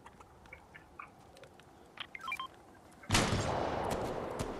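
In the Fortnite video game, sniper rifle gunfire cracks out as a sharp, loud blast followed by a rushing noisy tail, preceded by scattered faint in-game clicks and beeps.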